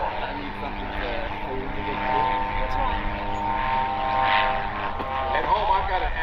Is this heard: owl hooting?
no